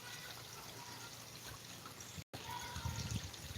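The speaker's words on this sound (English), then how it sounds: "When Minnow went over the waterfall" Steady water trickle from a small garden pond waterfall, continuous and fairly close, with a brief dropout partway through and no talking over it.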